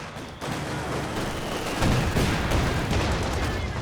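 A machine gun in Company of Heroes 2 fires incendiary rounds, making a steady, dense rattle of gunfire that swells in the middle amid continuous battle noise.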